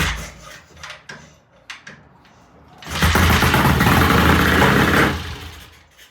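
A 1968 BSA A65 motorcycle engine is cranked with a few scattered knocks, then catches and runs loud and close for about two seconds before dying away.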